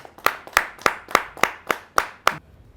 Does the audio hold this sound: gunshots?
no